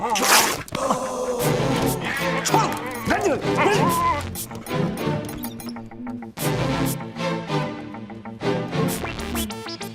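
A dog barks, yips and whimpers close by in a chaotic indoor scene, its cries tangled with excited shouting voices and a crash or two.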